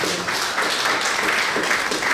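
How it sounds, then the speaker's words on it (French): Wedding guests applaud the couple's witnesses at an official marriage ceremony, a dense, steady patter of clapping from a gathered crowd that holds for about two seconds. "Applaudissez pour les témoins."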